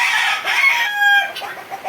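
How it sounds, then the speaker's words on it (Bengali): Tiger breed rooster and hens on a farm in Bakshiganj, Jamalpur, clucking steadily at close range while a rooster's drawn-out crow rises through the middle. "এই যে মুরগ"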